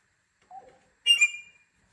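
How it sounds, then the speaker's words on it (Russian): A pet parrot indoors gives two short, clear whistles in otherwise near silence: a soft low note, then a brighter, louder trill a half second later. "Моя птичка, давай птичку тише."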